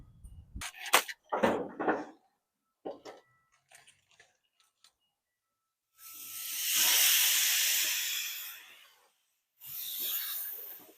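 Steaks sizzle on a grill, a steady loud hiss swelling for a few seconds then returning in a second burst after some clanks and knocks.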